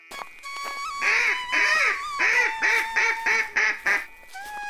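Cartoon ducks in a Bengali fairy-tale animation quack in a loud, close run of about eight nasal calls in quick bursts, with a faint background tone between them.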